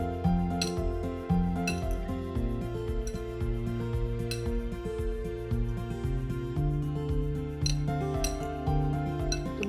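A metal spoon clinks against a bowl while pineapple sasav is mixed, repeated light taps and scrapes over background music, no voices.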